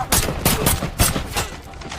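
Gunfire from an action film about mercenaries on a rescue mission, with sniper shots aimed at a helicopter pilot; loud repeated sharp bursts come in a rapid volley with a steady rumble beneath.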